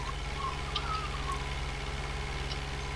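A tractor engine idles steadily in a farming video game, a low, even chugging drone with a rapid regular pulse, continuous and close throughout.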